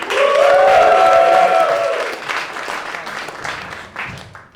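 Audience applause for comedian Will Page fills the room loudly at first, a dense wash of clapping with some cheering, then gradually thins and fades over a few seconds.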